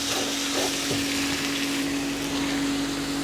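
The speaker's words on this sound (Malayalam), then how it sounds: "1 table spoon ginger garlic paste ഇട്ട് കൊടുത്ത് നന്നായിട്ട് നമുക്ക് ഇളക്കി കൊടുക്കാം" Onion with a tablespoon of ginger garlic paste frying and being stirred in a pan for street-style chole, a steady close sizzle with light scraping of the spoon throughout.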